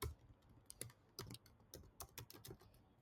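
Quiet, rapid typing on a computer keyboard while writing HTML code, with irregular bursts of key taps spread across a few seconds and no talking.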